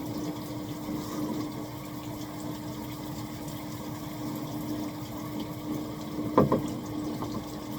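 Steady rush of shower water running in a bathroom, a continuous even spray with a low hum beneath and a brief clatter near the end, no voices.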